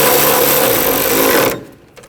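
Loud, close continuous whir of a power tool snugging a bolt down on an alternator bracket of a 2014-2020 Nissan Rogue 2.5L L4, running steadily for about a second and a half before cutting off, followed by faint handling noises.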